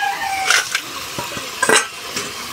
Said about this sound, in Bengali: তো দেখো জলটা দেওয়ার পরে তেলটা আমার কত সুন্দর ভাজতেছে